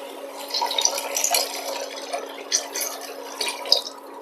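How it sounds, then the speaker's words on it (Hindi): A glass of milk is poured into carrots in a pan over medium heat, giving a close, steady liquid pour with light splashing and dripping, no voices. "1 गिलास दूध ऐड करते हैं।"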